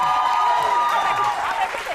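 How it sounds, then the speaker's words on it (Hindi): A studio audience on a weekend television show breaks into a burst of clapping and light cheering that fades over two seconds, with a voice speaking over it. "तालियां हो जाए।"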